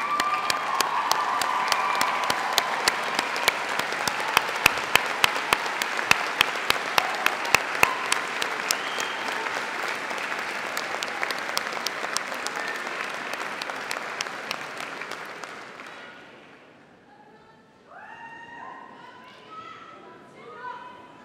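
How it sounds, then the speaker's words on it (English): Graduation audience at Birmingham City University gives a long, loud round of applause with scattered sharp claps, swelling then fading out around seventeen seconds into quieter room noise and brief murmurs. "join me in giving them a well-deserved round of applause"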